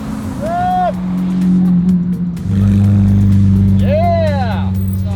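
Lamborghini Aventador engine droning loudly and steadily throughout, its low rumble rising in intensity midway, with brief whining sweeps and people talking over it.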